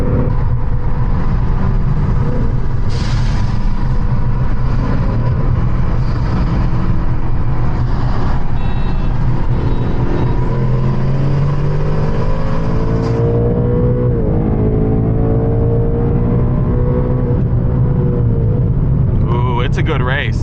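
A V8 Ford Mustang S650 drag races another car, its engine a loud, continuous roar that climbs in pitch through the run, with people talking underneath.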